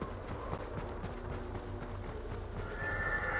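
A horse in the Ghost of Tsushima video game whinnies over the clop of its hooves, against a steady backdrop of in-game ambience and music, with a faint tone rising near the end.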